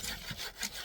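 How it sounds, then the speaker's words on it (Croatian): Men sawing and splitting wood outdoors in the morning: a brief, close rasp of saw strokes on wood. "cepaju drvo, režu, pile"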